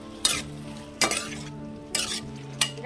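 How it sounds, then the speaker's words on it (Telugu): Tomato pieces fry in oil under a soft continuous sizzle, with four sharp spatula scrapes against the pan spaced about a second apart, close and distinct. "నూనెలో బాగా వేయించుదామండి"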